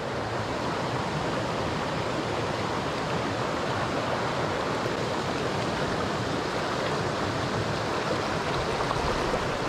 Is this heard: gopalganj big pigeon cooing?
no